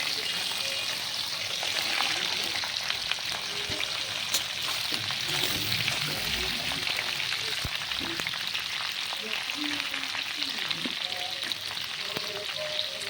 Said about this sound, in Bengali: এই যে কড়াতে তেল দিয়ে দিলাম, তেল দিয়ে আমগুলো ঢেলে দিলাম